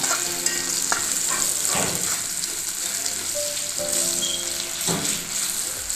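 Onions frying in a pan for a sweet potato dish, a loud, close, continuous sizzle with occasional scraping stirs and faint clinks, no talking.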